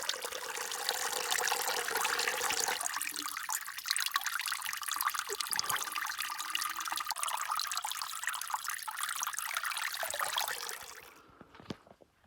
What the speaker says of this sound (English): When you have a little trickle and you can turn it into a waterfall with a leaf